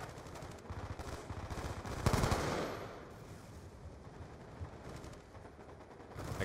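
Sustained rapid machine gun fire from a turret in the video game Black Ops 2, steady dense bursts with a heavier impact boom partway through, continuing loudly throughout.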